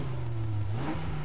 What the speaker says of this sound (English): Engines are revving.